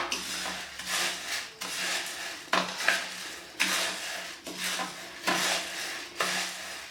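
Crunchy moong dal nimko being tossed with finely powdered salt, sounding as a series of about seven rhythmic rustling, rattling bursts of dry pieces against a bowl, close and moderately loud, with short pauses between strokes and no talking.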